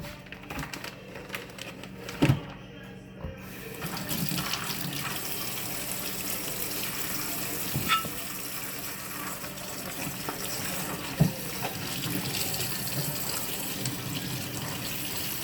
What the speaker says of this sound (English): I'm just going to rinse these a bit.